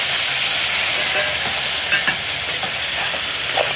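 A ground paste of mustard seeds, cumin, chilli and turmeric hits hot oil in a pan for a ridge gourd curry, giving a loud, dense, unbroken sizzle up close.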